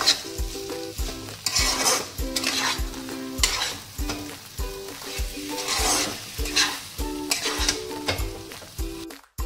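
Fish-head ghonto, a Bengali dish with fried lentil fritters, is sautéed in a pan with a sizzling crackle. A spatula scrapes and clinks against the pan in a regular rhythm throughout, close and moderately loud, with no voices.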